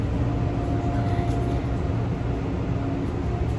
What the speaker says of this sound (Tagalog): First time nating sumakay ng LRT dito sa Edmonton.